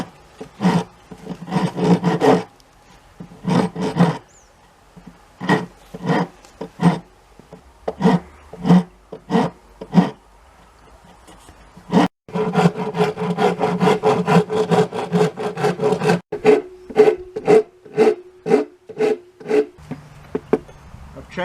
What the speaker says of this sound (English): So we're going to have to cut that all away with the rasp.